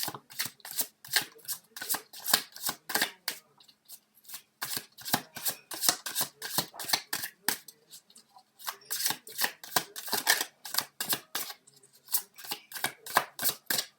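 Tarot cards being shuffled by hand in rapid bursts of crisp, close riffling clicks, broken by short pauses between rounds, with no speech.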